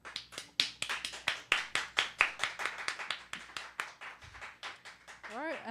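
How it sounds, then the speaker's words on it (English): A small group clapping in a radio studio for a chamber quartet, with distinct, uneven handclaps close by that thin out, plus brief voices near the end. "One more round of applause."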